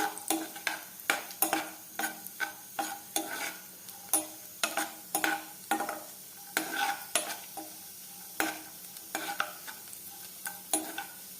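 Cashew nuts roast in a pan with a soft sizzle, stirred in a brisk, regular rhythm of scraping and rattling strokes, close and fairly quiet, with no voices.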